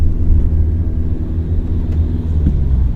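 Car accelerating steadily during a driving test lesson, a continuous low engine rumble that holds close and even throughout, with no other distinct sounds.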